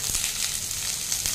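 Green chillies sizzle and fry in a pan with pumpkin and other vegetables for a mixed vegetable labra, a steady close hiss with no break and no talking.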